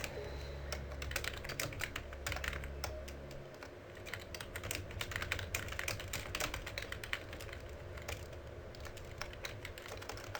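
Rapid typing on a computer keyboard, dense irregular key clicks clattering steadily throughout at close range, with a low hum fading out early on and no voices.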